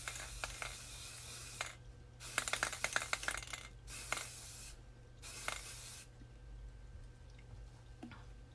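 A spray paint can sprays in long hissing bursts, one after another with short pauses, as paint is applied indoors to glitter tumblers, close and steady.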